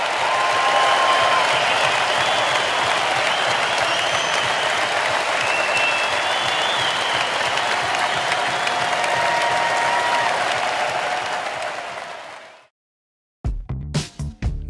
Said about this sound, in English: So I'd like all of you to join me in an applause for a great man and a life well lived.